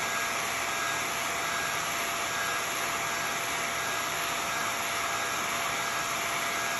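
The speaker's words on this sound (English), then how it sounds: "take your blow dryer and just take off the wings" A blow dryer heats the felt wings of a headband for a bee gnome craft, giving a steady, loud, unbroken whooshing roar for the whole stretch with no talking.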